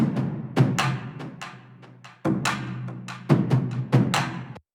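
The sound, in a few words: war drums sample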